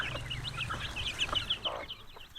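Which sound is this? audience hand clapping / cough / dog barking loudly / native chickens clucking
native chickens clucking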